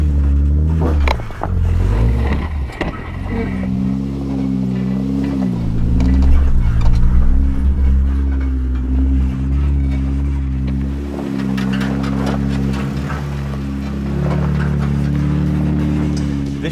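A lifted Jeep on 35-inch tires with a 3.5-inch lift kit climbs over an off-road obstacle, its engine droning steadily and rising and falling under load, with rumbling and creaking from the vehicle.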